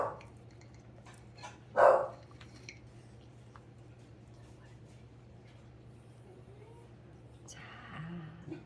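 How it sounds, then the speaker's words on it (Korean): Pet dog indoors giving a single short bark, fairly close, over a steady low electrical hum, with a few faint clicks and light household noises around it. "여러분 지금 강아지 소리 났죠?"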